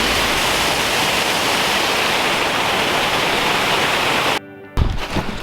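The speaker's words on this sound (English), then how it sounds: "So this is just one of the side waterfalls here." A side waterfall along Mary Vine Creek roars as a loud, steady broadband rush that fills the scene, then briefly cuts out near the end before returning less evenly.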